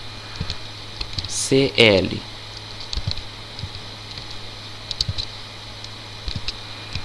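Light clicks of typing on a computer keyboard come in scattered bursts over a steady electrical hum, while a person speaks briefly in between.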